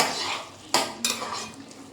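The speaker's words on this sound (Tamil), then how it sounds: "கலந்துட்டு நல்லா கொஞ்சம் பெருசாக வச்சுக்கணும்" Spoon scraping and clinking against a bowl while stirring coconut chutney, two sharp knocks standing out over a steady soft scraping, close and fairly quiet.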